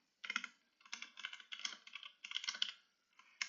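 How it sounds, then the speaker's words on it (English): Close, quiet bursts of typing on a computer keyboard, with rapid key clicks coming in several short clusters separated by brief pauses and no talking. "which I'm just going to type here"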